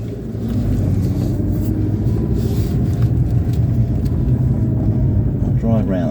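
A car driving along, its steady low engine rumble and road noise continuous and close throughout, with no talking over it.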